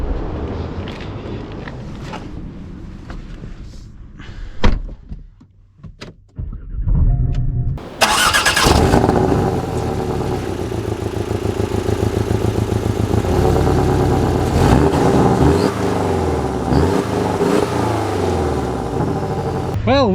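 A manual Porsche Cayman S starts and pulls away. A few knocks and clunks come first, then the engine catches with a loud flare around the eighth second and settles into a steady, strong drone as the car moves off.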